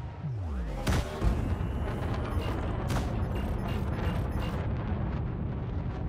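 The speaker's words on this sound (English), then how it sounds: "Now there's some clown with a railgun shooting at me." Railgun fire striking a ship in a space video game, a loud crack followed by a falling sweep and sustained roaring rumble, with further impact bursts layered over a steady engine drone.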